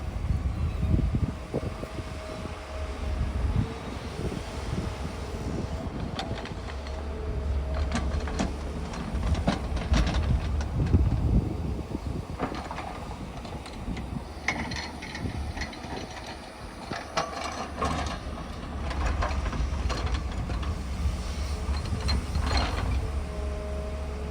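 Construction machinery digs and levels ground at the Amaravati iconic towers site near Tulluru, with a continuous loud mechanical rumble, clanking and ratcheting, and no talk.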